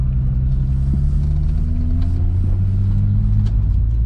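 A modified Mk2 GTI with a swapped 12v VR6 engine, cams and short gear ratios drones steadily from inside the cabin while driving, with a deep continuous rumble and slowly shifting engine tones, loud and unbroken, with no talking.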